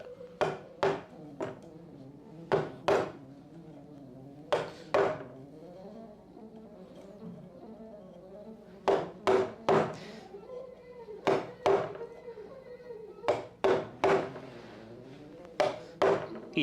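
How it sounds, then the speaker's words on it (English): A manual hammer strikes off plaster from a solid brick wall during a door restoration, sounding as sharp, repeated knocks that come in irregular clusters of two or three, close and loud over a quiet background. "So you have quite a bit of work with the hammer."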